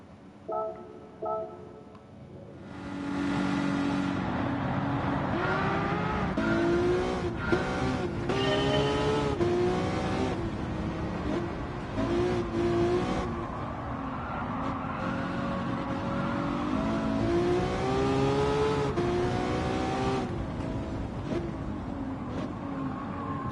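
A Gran Turismo 7 race car, untuned and on sports hard tyres, drives laps with a steady engine drone whose pitch climbs and drops through the gears, loud and continuous after a quiet start.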